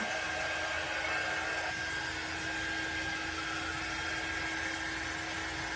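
A hair dryer blows continuously and evenly at close range, drying wet paste on a chunky craft snowman, a steady whirring hum with no talking.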